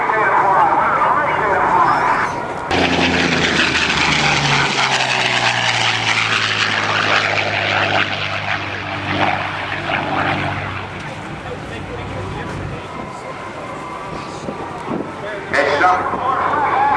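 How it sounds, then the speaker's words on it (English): A liquid-cooled V12 propeller aircraft engine roars loud and continuous as a plane passes at an air show, its pitch sliding downward as it moves away, with a voice talking over the sound. "Listen to the sound of that, because we'll hear another V12 engine in Jim Beasley's P-51 Mustang"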